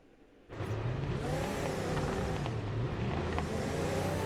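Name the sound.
Corvette doing a burnout in a racing video game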